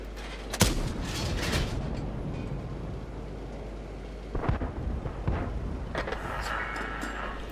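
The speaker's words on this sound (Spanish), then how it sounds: "Estoy disparando a un tanque a 150 metros" A tank cannon in World of Tanks fires with a sharp loud boom, followed by two more rumbling shots a few seconds later over a continuous low engine drone.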